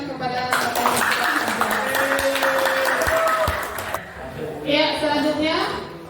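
Students in a classroom burst into a round of clapping for their teacher, the applause running for a few seconds while a voice talks over it and carries on after it fades.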